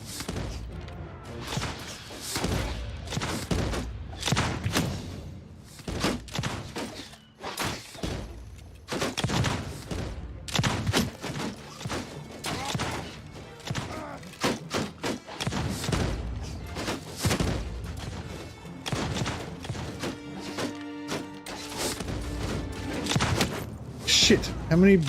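Irondrakes firing in a Warhammer battle game, dense rapid gunfire with heavy thuds and crashing impacts running almost nonstop, loud and close, while a player talks over the fighting.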